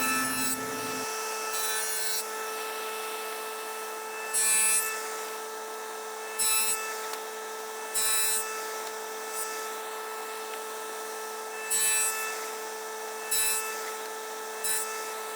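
Wood is sawn to cut 1/8-inch-deep tenon shoulders on an indoor bench's seat side rails, giving short, rasping strokes at irregular intervals over a steady background hum, close and moderately quiet.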